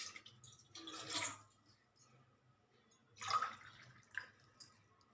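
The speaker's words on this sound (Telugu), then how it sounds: "ఒకటిన్నర గ్లాసు వాటర్ పోసానండి." Water poured from a glass into a pot while cooking wheat rava pulihora, a soft splashing pour in two short bursts, quiet and close, with no talking.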